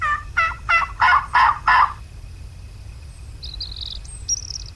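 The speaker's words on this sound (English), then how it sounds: "They are both gobbling like crazy." A wild turkey in a hunting video game gobbles loudly in a rapid burst of five pulses, followed by faint chirping birds in the distance.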